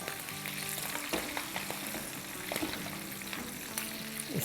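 Kebabs frying briefly in hot oil, giving a steady, close sizzle with a few sharper spatters and pops throughout, no talking.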